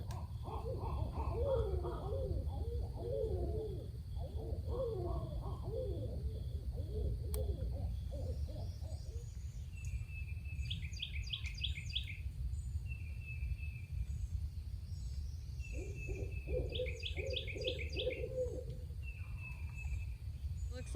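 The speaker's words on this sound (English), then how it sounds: "Looks like an owl." Soft owl hooting calls repeat in short bursts against a steady outdoor hum in Florida, with other bird chatter nearby and a low rumble throughout.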